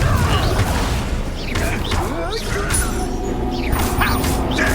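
The Confringo spell in the game Hogwarts Legacy goes off as a booming explosion amid a dense, chaotic wash of magical combat effects, with whooshing blasts and crashes layered over a continuous low rumble.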